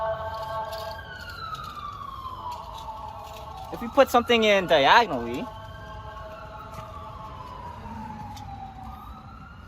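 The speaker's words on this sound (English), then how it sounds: "I apologize for the siren in the background." A siren wails steadily in the background, swelling briefly louder partway through, while a person talks over it.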